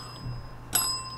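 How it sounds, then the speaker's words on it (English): A service bell rings once with a bright metallic ding that lingers and fades, standing out against quiet background noise. "That's a double bell."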